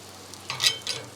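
Skin-on chicken thighs sizzle in a pan after being flipped, a low frying hiss swelling into a couple of brief, louder crackling bursts near the end.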